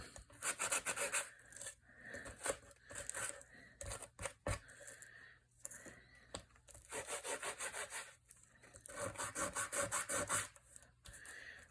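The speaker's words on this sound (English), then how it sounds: "I'm just going to sand them just a bit." Rhythmic scratchy rubbing in repeated bursts, a sanding block scrubbing back and forth on faux metal tags, close up with short pauses between strokes.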